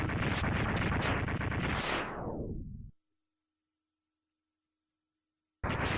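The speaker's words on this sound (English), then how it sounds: "And one giant explosion later." A giant explosion in the Mega Man X2 video game: a loud, dense roar with rapid crackling bursts that sweeps downward and cuts off abruptly, leaving a faint hum and then silence before another loud burst starts.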